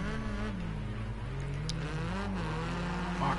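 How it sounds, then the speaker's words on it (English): Rally cars in the video game Rally Fighters rev hard over a jump, engines droning with a wavering buzzy pitch that rises and falls, loud and continuous without talk. "Two cars over the jump."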